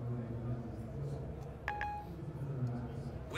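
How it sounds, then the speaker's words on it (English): Short electronic dialing tones from an Apple FaceTime call being placed on a phone, a brief cluster of beeps sounding mid-clip over a low room hum and background murmur during a seminar demonstration. "Making a FaceTime call to Don Barnes' mobile phone."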